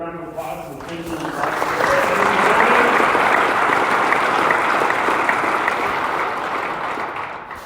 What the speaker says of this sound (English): We get another round of applause